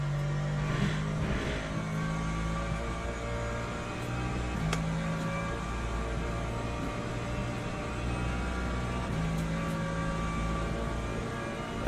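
BMW race car engine in Le Mans Ultimate, a steady droning hum with the revs shifting up and down and a few soft clicks, continuous and moderately loud throughout.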